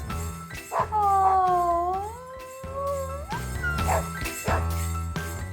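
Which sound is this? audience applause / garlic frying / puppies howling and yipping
puppies howling and yipping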